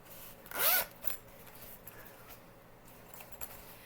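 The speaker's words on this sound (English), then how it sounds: "And it has a zipper case." A zipper on a black Mylar zipper pouch is pulled in one quick, loud rasp early on, followed by a few faint rustles and small clicks of handling.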